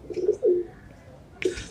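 Racing pigeons coo softly in two short, low murmurs, close by in a loft, followed by a brief rustle.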